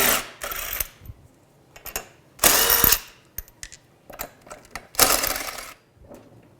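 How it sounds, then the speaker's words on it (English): Hand tools working on a Can-Am Spyder as three bolts are removed, bursts of ratcheting and metallic clicks with loose bolts clinking, close and separated by short quiet gaps. "Go ahead and remove the 3 bolts."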